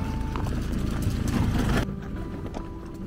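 Horse hooves clip-clopping over a rocky, stony mountain trail on the way to Anjani Mahadev near Solang Valley in Himachal Pradesh, steady close hoofbeats over outdoor ambience, louder for the first two seconds and then quieter.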